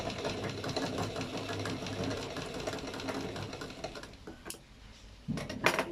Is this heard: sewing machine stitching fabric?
yes